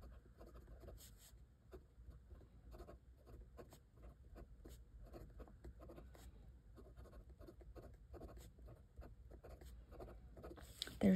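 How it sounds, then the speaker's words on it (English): Steady nib-on-paper scratching from a Pelikan Sovereign M400 fountain pen writing Edelstein Moonstone ink into a Hobonichi planner, a soft continuous close-up scritching with short pen strokes and no voices. "Pelikan Sovereign M400 with the Pelikan Edelstein Moonstone ink. So I'm gonna write that right here."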